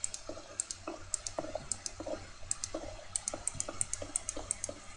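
Wooden plank blocks being placed in Minecraft, a string of quick soft clicky taps in an irregular rhythm, faint and close with no talk over them.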